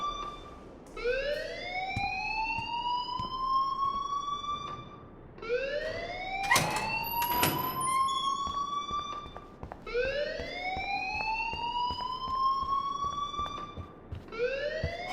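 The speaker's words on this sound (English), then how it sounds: "please turn off that alarm since that's your job" A loud rising-and-falling alarm wails repeatedly in Life Is Strange, each sweep climbing then holding before restarting about every four seconds, with a couple of sharp high bursts cutting in partway through and no voices.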